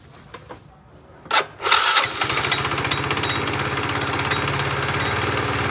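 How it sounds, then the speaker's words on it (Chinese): A Yamaha scooter with a faulty, noisy gearbox is started: a few clicks and a cranking burst, then the engine catches and settles into a loud, close, steady idle with a rapid rhythmic chug. "先将摩托车启动着。"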